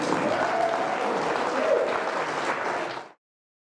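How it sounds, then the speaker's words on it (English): An audience at a comedy show claps in a dense, steady burst of applause for about three seconds, then it cuts off abruptly into silence. "Thank you for the round of applause."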